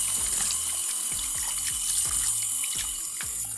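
Tap water running steadily into a sink while a dirty stress ball is washed, a close, constant hissing stream with faint rhythmic knocks underneath.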